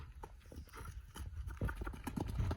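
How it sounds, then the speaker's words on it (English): A foster horse canters steadily around a training lap, its hoofbeats thudding in a quick, rolling rhythm that is close and fairly loud, with no voices. "But that's a nice canter."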